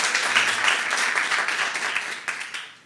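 A church congregation applauding during a worship service, a steady wash of clapping from the crowd at moderate distance, fading out toward the end.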